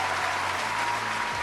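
Steady crowd applause from the Madden 25 football video game, a dense continuous clapping at even loudness across the whole short stretch, with no talk over it.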